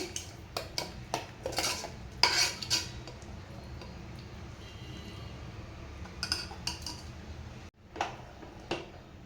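A spoon stirs chana dal curry with added water in a metal cooking pot, making quiet, close, irregular clinks and scrapes in short bursts with pauses between.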